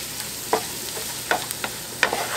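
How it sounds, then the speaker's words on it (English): Garlic sizzles softly in a pan while it is stirred, with a few distinct scraping clicks from the utensil over a quiet, steady crackle. There is no talking. "I've added in my garlic, and I'm just going to stir it around just a little bit till it's fragrant."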